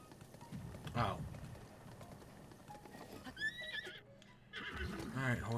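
In the video game Breath of the Wild, a horse gives a high, wavering neigh over soft clip-clopping hooves, with a second whinny near the end; speech-like sounds mix in.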